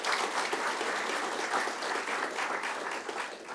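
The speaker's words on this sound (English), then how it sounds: "let's give her a round of applause" Audience applause at a school kickoff event honoring the school board president, a steady wash of many hands clapping, fairly loud and continuous throughout without pause.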